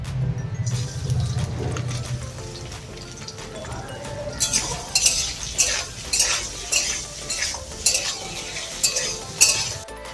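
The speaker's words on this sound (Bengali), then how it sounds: "তেল দিয়ে তারপরে নুন হলুদ মাখানো চিংড়ি মাছটা একটু হালকা করে ভেজে নিচ্ছি" Salt-and-turmeric-coated prawns shallow-frying in oil in a pan with a soft sizzle, interrupted by repeated clinks and scrapes of a utensil stirring, close by and fairly loud.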